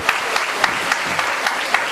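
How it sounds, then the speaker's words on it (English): Applause from an audience at an outdoor Chromebook handover ceremony in the rain, a steady patter of clapping hands with a few sharper claps standing out, moderately loud and continuous. "Let's give a round of applause to Professor Edwards"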